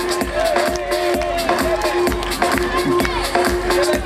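Children at a magic show applaud and cheer, a lively mix of clapping and crowd noise with a steady tonal hum running underneath throughout.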